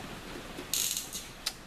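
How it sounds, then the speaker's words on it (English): A ratchet wrench gives short broadband clicking bursts while driving an exhaust bolt back in on a Dominator exhaust setup, one quick run of clicks followed by a single brief snap, all fairly faint. "So the bolt's got to go back in."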